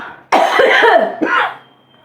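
A harsh cough close to the mic, a rough burst followed by a shorter second hack, with no talking.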